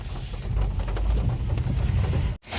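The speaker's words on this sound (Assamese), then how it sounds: "বিৰাট বৰষুণ" Heavy rain pours steadily and loudly, with a dense roar filling the scene while a group shelters under a shop awning during a motorbike ride; the downpour cuts out abruptly near the end.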